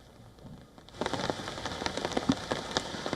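Rain falls outside a residence in New Delhi; after a quiet first second, a close, steady patter of drops on surfaces sets in, with crisp individual splats, and no one speaks.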